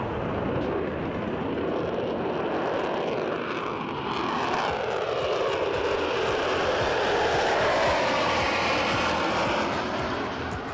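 Roar of a Concorde supersonic jet on its takeoff run, heard from inside the cabin as a loud, steady broadband engine rush that builds and holds throughout, with no talk over it.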